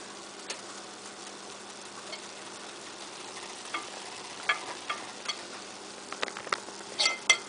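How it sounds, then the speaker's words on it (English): A meatball fries in hot oil with a faint steady sizzle and scattered pops and crackles that grow busier near the end, with no talk. "Take a ball. Drop it into the oil."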